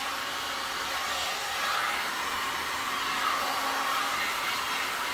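A heat gun blows over a wet resin painting with cells, giving a steady, fairly quiet whooshing hum of airflow that holds constant for several seconds with no talking.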